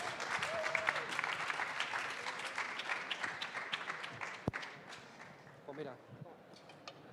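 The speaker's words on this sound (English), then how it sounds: "So now it's time for the applause." A conference-stage audience claps for a panel of five tech speakers, the applause starting fairly full, then thinning into scattered, distinct claps with a few sharp knocks and faint voices as it dies away.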